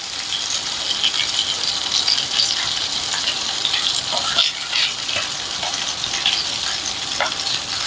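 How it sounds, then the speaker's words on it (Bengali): Pieces of rohu fish frying in hot oil in a pan, a steady close crackling sizzle that runs unbroken throughout with small pops and stirring noises, no talking. "মাছগুলোর দুদিকটা আমি লাল করে ভেজে নেব।"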